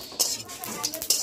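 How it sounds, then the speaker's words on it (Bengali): Whole coriander, fennel and cumin seeds fry in a pan over medium heat while a utensil stirs them, giving soft scraping and a few clinks of metal against the pan in a short burst. "1 মিনিটের মতন ওভেনের আঁচ মিডিয়াম রেখে অনবরত নেড়ে চেড়ে ভেজে নেব।"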